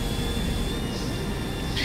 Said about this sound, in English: How is that helicopter keeping up with us?